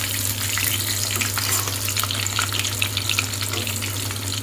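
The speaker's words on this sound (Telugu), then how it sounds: "కాస్త ఎక్కువసేపే వేయించుకోవాలన్నమాట." Tuna fish pieces frying in hot oil give a steady, dense sizzle with crackling pops throughout, close and continuous, with a low hum underneath and no voices.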